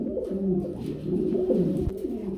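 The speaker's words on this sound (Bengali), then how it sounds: "দেখেন কিভাবে ডাকে, ঘুম ঘুম ঘুম ঘুম।" A running pigeon gives a close, throaty coo, a low rolling call that swells and repeats several times without pause, with no voices over it.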